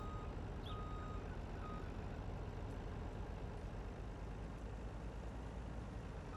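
A truck in Farming Simulator 19 backs up with a brief, faint electronic reversing beep over a steady, low engine rumble that continues throughout, with no talking.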